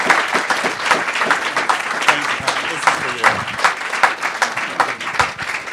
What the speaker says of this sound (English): please give a huge round of applause for Bill and for everybody who's